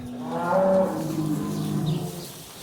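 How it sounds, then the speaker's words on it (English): A bull on a French cattle farm lets out a single long, deep moo that swells and then fades slowly, close and clear with no talking. "this is a bull we bought the other day."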